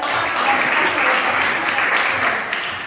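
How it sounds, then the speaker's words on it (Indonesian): Classroom applause for a student, a steady sustained clapping from a group of pupils that fills the room at close range for the whole stretch. "Beri tepuk tangan untuk Adel."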